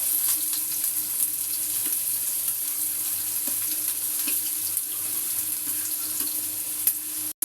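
Chopped green chilies and onion fry in hot oil for Nepali achar, giving a continuous even sizzle with faint clicks of stirring and no voices.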